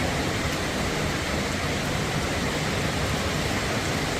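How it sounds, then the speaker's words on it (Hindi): Heavy rain pours down in Bangalore as a dense, constant hiss of loud, even noise with no pauses and no voices. "बारिश जमकर हो रही है।"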